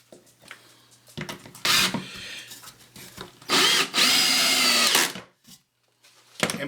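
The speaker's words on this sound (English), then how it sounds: "I'm going to drill that pilot hole" A power drill bores a pilot hole in wood for a beginner's step stool: short whirring bursts and two longer, loud runs, close by, separated by quiet pauses and small handling knocks.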